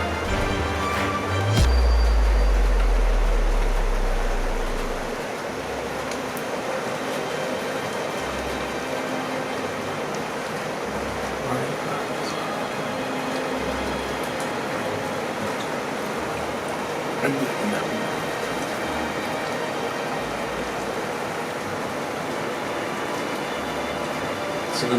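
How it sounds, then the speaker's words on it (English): A severe thunderstorm in Guilford County with strong wind: a steady broadband roar that starts with a loud low buffeting gust and then holds a constant rushing wash. "It's getting pretty windy."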